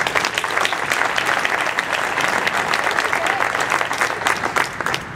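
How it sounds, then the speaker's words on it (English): A room full of people gives sustained applause at a farewell event for a retiring president. The clapping is loud, close and dense with many overlapping hands, and it carries on steadily throughout. "Let's give Cindy a round of applause."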